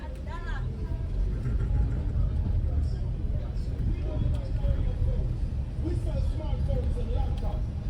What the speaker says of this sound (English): And the traffic is on the road.